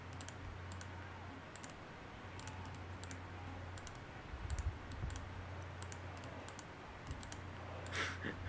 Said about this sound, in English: All that can be heard is clicking.